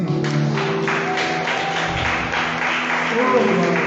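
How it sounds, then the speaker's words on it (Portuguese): A church congregation claps in praise, a moderate patter of hands under sustained keyboard-like tones and a voice. "Vamos aplaudir ao Senhor, hein?"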